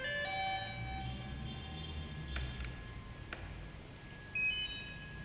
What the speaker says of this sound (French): Ensuite, j'allume la radiocommande.